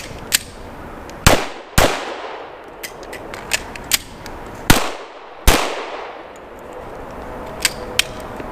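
Pistol shots from an FN FNX-45 drawn from a tactical holster at 7 yards on three targets, a handful of loud, sharp cracks at irregular intervals, each with a ringing tail and faint metallic clinks between.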